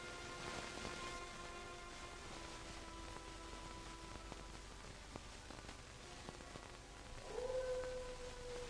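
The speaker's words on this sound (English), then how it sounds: "The howl of wolves usually denotes nearness of game" Wolves howl in the Arctic wilderness, faint and distant, their long drawn tones rising out of a soft background hiss, with one clearer howl swelling near the end.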